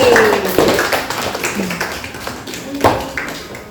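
Students in a Quran lesson classroom give a short round of clapping, close and fairly loud, with voices chattering over it.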